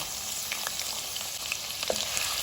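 Finely chopped onion frying in hot oil with cloves, black pepper and bay leaves, a steady close hiss and crackle with small pops, no voices.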